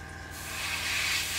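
Airbrush spraying primer onto a 1/72 Airfix McDonnell Douglas Phantom FG1 model kit, a steady airy hiss that swells slightly louder over its short span, heard alone.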